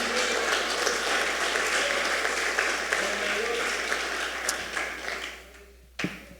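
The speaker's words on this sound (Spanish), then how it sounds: "Dile un fuerte aplauso a nuestro Dios." Congregation in a Spanish-language church service clapping loudly in praise, a dense, sustained round of applause that gradually thins and fades, ending with a single sharp knock or thump near the close.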